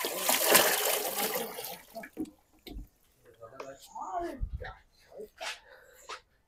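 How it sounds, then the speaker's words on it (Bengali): Water splashes and pours into a container for about two seconds, fairly loud and close, while a cow is being given deworming medicine; then a person talks for the rest of the time. "দেখি একটু পানি ভরে দিই দেয়।"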